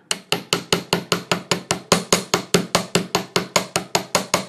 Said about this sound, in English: now I'm going to do my hammering